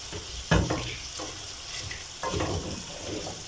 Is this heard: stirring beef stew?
yes